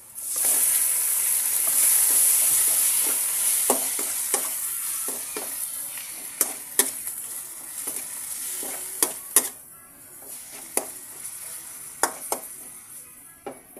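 Pork hits a hot pan for home-style pork igado, bursting into a loud hiss that gradually settles into a quieter sizzle punctuated by sharp utensil clinks and scrapes against the pan.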